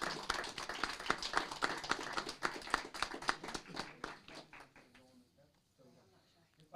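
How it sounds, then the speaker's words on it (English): Applause for the Animal Services team at a city council meeting, a burst of many hands clapping in a room that fades out over several seconds. "if we could give them a big round of applause"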